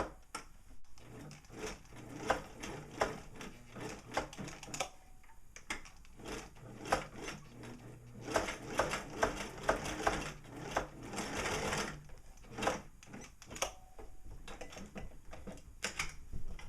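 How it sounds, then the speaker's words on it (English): A sewing machine runs a few short reverse stitches on a strap for a side-release buckle, giving quick rattling bursts of needle clatter separated by brief pauses, close and fairly quiet, with no talking. "We'll do a couple of reverse stitches."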